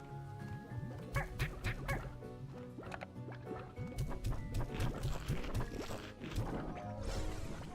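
Dense cluster of clucking and squawking chickens in Slime Rancher 2, busy overlapping game creature calls and splashy effects throughout, without talk.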